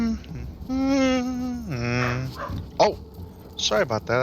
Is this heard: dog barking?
yes